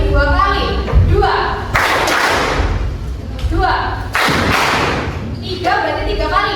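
A group of people clap hands in unison, two loud broadband bursts of claps with voices talking before and after in a classroom-style exercise.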